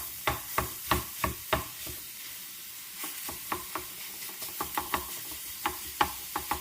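Lean 85/15 ground beef sizzles in a pan as it is broken apart and browned, with a steady frying hiss and a series of sharp spatula scrapes and taps at irregular intervals.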